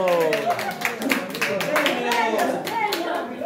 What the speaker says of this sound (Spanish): ¡Bravo! ¡Aplauso!